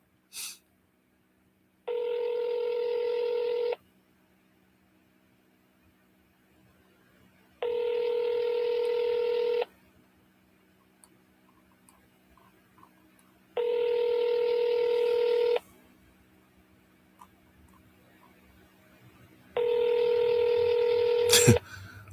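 An outgoing phone call rings on the line, four long, steady ringback tones at even intervals with quiet gaps between them, loud and clear, ending with a sharp click.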